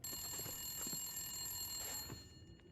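A telephone rings in The Long Dark, a faint, continuous metallic bell trill sounding over soft footsteps and shuffling before it cuts off near the end.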